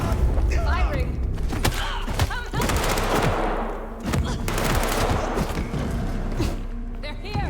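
Rapid bursts of gunfire in Vampire: The Masquerade – Bloodlines 2, loud close shots and booming impacts in clustered volleys with brief lulls, while voices shout over the firefight.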